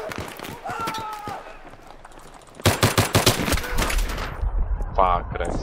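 Pistol fire in the video game Battlefield 3 comes as a rapid burst of sharp, close shots, followed by scattered further shots amid other game noise.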